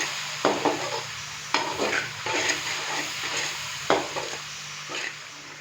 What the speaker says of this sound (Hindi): अच्छे से मिक्स करेंगे और मसाले को 5 से 7 मिनट के लिए भून लेंगे